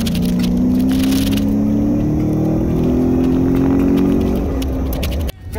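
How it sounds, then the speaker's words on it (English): A 2017 Ford F150 Raptor EcoBoost engine revs loudly and close by. Its pitch climbs in one long, smooth pull for about five seconds before it cuts off abruptly. "What does the EcoBoost sound like?"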